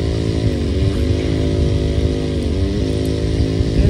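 A clone chainsaw engine runs close and loud, a steady buzzing two-stroke drone with small dips in pitch as the throttle wavers, alone without talk.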